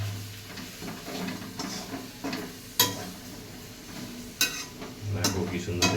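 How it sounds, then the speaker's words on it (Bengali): Paneer stirred in a pan for a no-oil, low-calorie high-protein dish. The scraping comes in irregular passes, with a few sharp utensil clacks against the pan over a low background hum. No one speaks. "পনিরটা দিয়ে একটু নাড়িয়ে চাড়িয়ে দেবো।"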